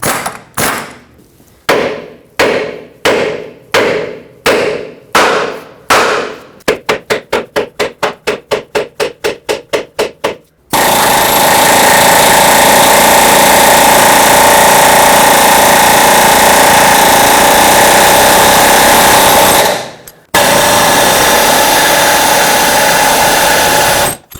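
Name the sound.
hammering bolt out of control arm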